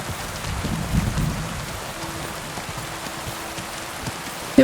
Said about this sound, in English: the rain is crazy loud for me.